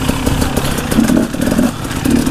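An enduro motorcycle engine drones loudly and steadily while being ridden standing up, with small surges in revs, rattling and wind noise, and no voices.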